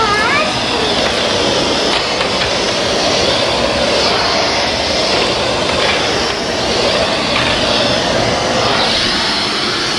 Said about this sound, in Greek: Πιο πολύ θόρυβος ακούγεται από το στόμιο της σκούπας παρά από τη μηχανή